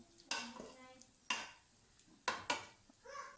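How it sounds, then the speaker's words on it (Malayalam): Beef biryani is stirred in a pressure cooker pot, with sharp spoon-on-metal knocks and scrapes at irregular intervals and a brief bit of voice near the end. "ഒന്നും കൂടി നമ്മളിത് ഇളക്കിയിട്ട് മൂടി വെക്കുക"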